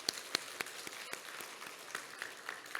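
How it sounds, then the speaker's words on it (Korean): A church congregation at a Christmas service claps, scattered sharp individual claps over a softer background wash, fairly faint and somewhat distant. "우리 다시 한번 하나님께 영광의 박수 한번 올려드리겠습니다."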